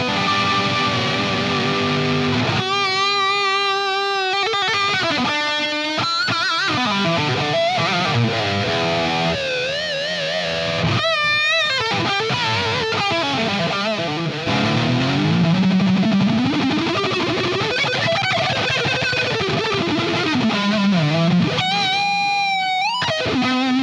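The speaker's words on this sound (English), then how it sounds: "I want to click on the delay pedal and play a little bit of solos for you" Electric guitar solo played through a delay pedal on a minimalist live rig with a red amp channel and noise gate, distorted lead lines bending and sliding with echoing repeats trailing behind each phrase, loud and continuous.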